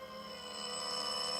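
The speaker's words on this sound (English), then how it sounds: "they stood there ringing my bell for 5 solid minutes before they woke me up" Electric doorbell ringing as a radio drama sound effect, a sustained bright metallic ring held steadily for over a second with no voices.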